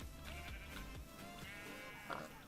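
A Minecraft sheep bleats in a survival game. The faint, wavering cries repeat a few times over a low, steady background.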